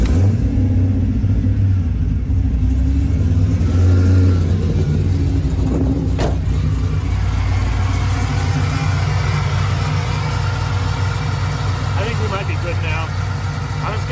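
Forged 6.0 V8 in a Camaro rumbles loudly at close range with continuous engine drone and a mild rev partway through, steady and unbroken throughout.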